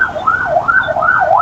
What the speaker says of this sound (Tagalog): Grabe ba, pas-pas ng ambulansya.